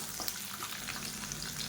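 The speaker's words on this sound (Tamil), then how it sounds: "இப்போ இது எல்லாத்தையும் நல்லா வதக்கிக்கலாம்." Chopped garlic and ginger sautéing in a pan for South Indian kuzhambu, a dense, even sizzle with faint stirring scrapes, close and continuous, without voices.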